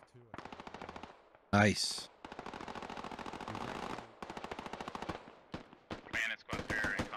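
Machine gun fire rings out in the military shooter game Squad in a couple of sharp, loud bursts, set among near-constant radio chatter and voices talking between shots.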